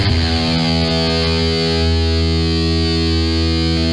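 A sustained, heavily distorted electric guitar chord rings out loud and thick with saturated high-gain amp tone, fading slowly without any talking.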